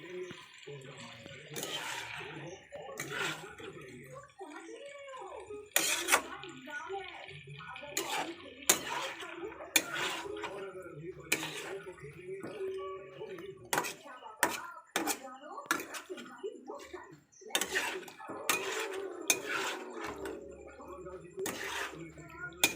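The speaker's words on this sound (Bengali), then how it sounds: "চিকেনটাকে ভালোভাবে মাখিয়ে নিয়ে এটা ভালো করে মিক্স করে নেব।" Chicken being stirred and mixed in a pan for chicken korma gives repeated scraping and clinking of a utensil against metal, with a voice talking over it.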